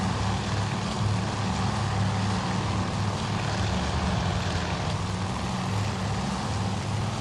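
Propeller aircraft engines drone steadily in the naval combat game Task Force Admiral, a dense continuous roar held at even loudness throughout with no pauses.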